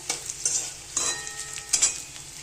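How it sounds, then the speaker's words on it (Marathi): Edible gum (dink) roasting and being stirred in hot oil for methi dink ladoos, with soft sizzling and several quiet scraping stirs at an irregular pace, close by and fairly faint. "डिंक काय भारी भाजलाय बघा हा"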